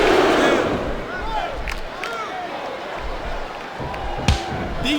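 An arena crowd in the wrestling game WWE SmackDown vs Raw 2007 roars and chants continuously, a dense wash of voices with a brief sharp thud near the end.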